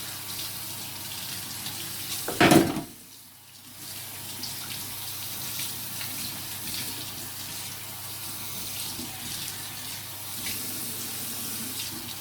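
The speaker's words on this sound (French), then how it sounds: "J'ai rincé abondamment mon filet de saumon" Running tap water pours steadily into a sink while a salmon fillet is rinsed under it, with a brief louder splash early on before the flow settles into a constant, close hiss.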